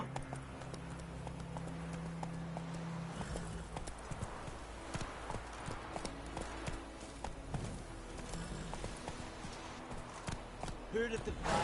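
Hooves of a horse in The Witcher 3 clip-clop steadily on the ground in a quick, regular rhythm, fairly close and continuous, with game sounds and a voice briefly underneath.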